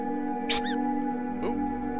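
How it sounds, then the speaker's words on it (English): A teddy bear squeaks loudly in the horror puzzle game Bad Dream: Graveyard, giving a sharp high wavering squeal and then a fainter second squeak over a steady droning musical background. "Good to have such a loud squeak."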